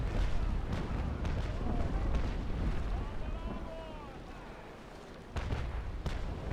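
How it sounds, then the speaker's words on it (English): Ship cannons boom in the naval combat game Naval Action: Legends, several heavy shots with rolling rumble and debris crackle, one loud blast near the end, under a man's speech. "I love the smoke and the fire effects, the sounds of the cannons"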